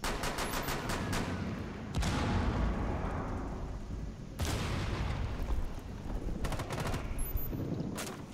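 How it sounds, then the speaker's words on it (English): Rainbow Six Siege gunfire in a hostage team deathmatch on the Favela map: rapid automatic bursts crackle through the first two seconds, then heavier booming volleys around two and four and a half seconds, with more rattling shots near the end. "They're shooting out of it."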